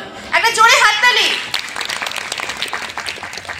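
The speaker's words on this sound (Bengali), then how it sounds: "একটা জোরে হাততালি" Applause for a third-place prize winner at a college lamp lighting ceremony, a spoken announcement giving way to steady clapping that continues to the end.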